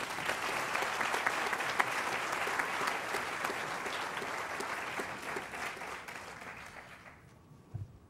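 An audience at a topping out ceremony for a Duke Medicine cancer center building claps steadily to welcome a speaker, a dense sustained applause that fades out toward the end.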